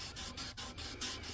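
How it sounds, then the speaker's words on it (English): A canvas applicator rubs coarse stone powder over a rusty metal surface in a shop, making steady scrubbing strokes in about six even back-and-forth passes, close and moderately loud with no talking. "with the applicator we have a much better result in cleaning that rust off of the"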